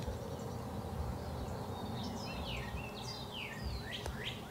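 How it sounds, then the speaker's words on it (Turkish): Several birds chirp and trill in quick descending phrases beside a lakeside house, over a steady outdoor hum, fairly faint and at some distance. "Kuş seslerini duyuyorsunuz."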